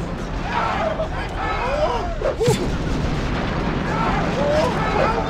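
Ship cannon fire in the naval battle of Sid Meier's Pirates sounds as booms and rumbling blasts amid game noise, with a sharp burst near the middle, while a voice talks over it.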